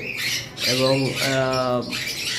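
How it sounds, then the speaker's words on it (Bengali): A newly arrived pair of sun conure parrots squawks loudly and close up, with harsh, shrill calls in quick succession, while a voice speaks faintly in the background. "আমাদের কাছে নতুন দুইটা পেয়ার থানকনুর পাখি এসেছে"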